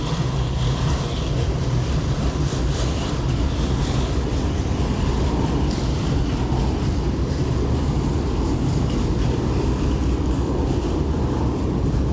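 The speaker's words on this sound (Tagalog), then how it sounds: "dadaan ang LRT kaya maingay" A loud, steady rumble and roar of a light rail train passing nearby along the Pasig River in Manila, continuous throughout with no voices.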